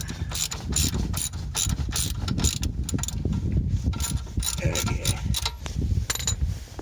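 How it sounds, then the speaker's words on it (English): Ratchet wrench with a 19mm socket undoing a bolt on the tie rod of a 2001 Volvo V70 XC, dense rapid clicking in quick bursts at close range, loud and continuous. "you want to get a ratchet wrench with a 19mm on it, so that you can undo this bolt first"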